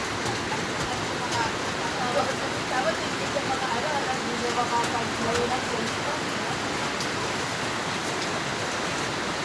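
Rain falls steadily on an organic farm, a constant close hiss of drops on plants and ground with no break, and no talk over it.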